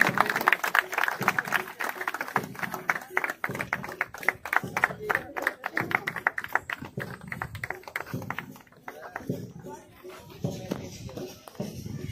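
Applause breaks out at a police passing-out parade as a crowd claps in dense, uneven bursts that build and fade over several seconds, with scattered footsteps and shuffling and a voice speaking in the background.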